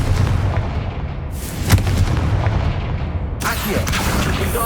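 A Confringo blasting spell from Hogwarts Legacy goes off as a loud booming explosion, with a second burst partway through, over dense game ambience.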